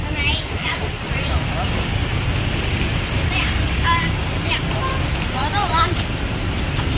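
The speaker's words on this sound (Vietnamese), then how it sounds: "Đây trời mưa trời gió." Steady rain with gusting wind outdoors at the north gate of Ben Thanh market in Ho Chi Minh City, a dense continuous hiss with scattered traffic and voices underneath.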